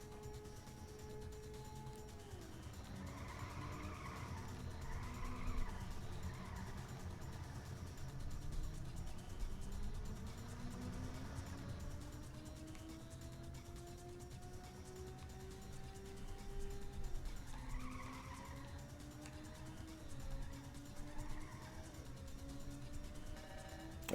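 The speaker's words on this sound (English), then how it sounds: "How do I keep my speed while I'm drifting?" Engine drone of a car in the Ridge Racer racing game with rising, shifting pitch as it drifts through corners, held steady and fairly loud throughout without any talking.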